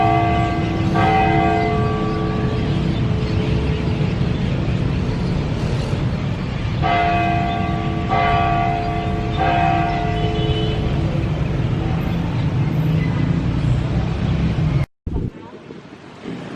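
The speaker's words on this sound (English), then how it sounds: "There goes the church bell." A church bell rings at night in Alaminos City, Pangasinan, Philippines, tolling in repeated strikes over constant wind and street noise, before a sudden cut near the end.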